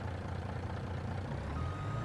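A farm truck backs up in winter, its steady reversing beeps sitting over a loud, constant engine rumble. It sounds close and continuous, with no voices.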